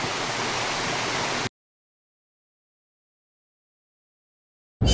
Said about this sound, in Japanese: 精霊の滝。